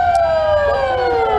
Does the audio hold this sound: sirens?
yes